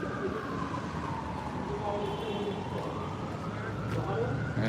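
A police siren wails through a Manhattan street at night near Columbus Circle, its tone sweeping up and down and passing close under steady city traffic noise.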